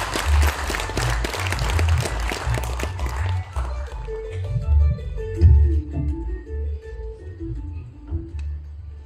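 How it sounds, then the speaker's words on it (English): An audience claps for a Prime Minister arriving to give a keynote address, with dense applause at first that thins out and fades into scattered claps and a low room murmur. "let us welcome our Prime Minister with a big round of applause"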